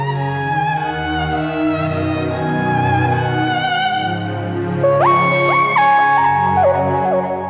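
An electronic keyboard on a string voice plays a sustained string-like pad with shifting chords, and a brighter melodic line enters partway through over the held tones.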